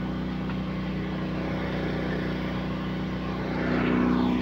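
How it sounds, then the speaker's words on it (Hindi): Agricultural spray drone working over an onion crop on a farm, its steady propeller drone droning continuously at close range and swelling slightly louder near the end, with no talk. "ये ड्रोन के साथ प्याज़ों को स्प्रे कर रहे हैं।"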